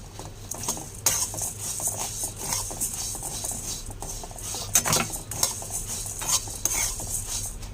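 A spoon scrapes and stirs through puffed rice frying in a pan, with a constant crackling sizzle and occasional metallic clinks.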